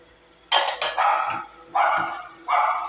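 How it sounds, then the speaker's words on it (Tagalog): A dog barks close by, a few sharp loud barks spaced irregularly, with brief quiet between them and no talking. "Ang ingay ng aming aso. Napakaingay."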